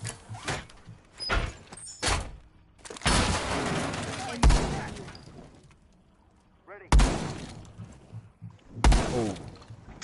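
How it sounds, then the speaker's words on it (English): In a tactical shooter video game, loud shotgun blasts tear through a wall in several sharp, heavy bursts with debris crackling between them, separated by near-quiet gaps. "I just shotgunned the wall"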